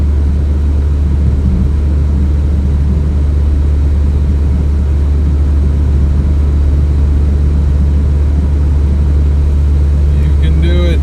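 Small 4-cylinder Toyota car engine labouring uphill in heat with the air conditioning blasting, a steady low drone and road rumble heard from inside the cabin throughout.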